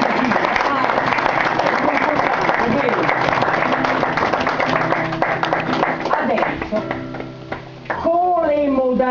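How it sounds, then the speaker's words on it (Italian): An audience at a poetry reading claps steadily in a dense, lively burst that thins out toward the end, where a voice begins to speak over the fading applause. "E se vi riesce, fatelo un mezzo applauso"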